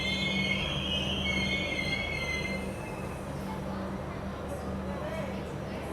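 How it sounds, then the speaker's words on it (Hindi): Bangalore Rajdhani express pulling out of Balharshah station in hot weather, a steady loud rumble of rolling wagons with high metallic wheel squeals through the first seconds, continuous and close. "बेंगलोर राजधानी अपनी 142 पे बल्हारशाह रेलवे स्टेशन से निकल रही है"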